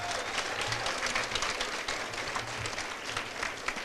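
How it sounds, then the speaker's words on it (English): Steady, dense applause from a large audience fills the room at a charity football kickoff event honoring a former Dallas Cowboys player, continuous and fairly loud throughout with no talk over it. "You can give him a round of applause."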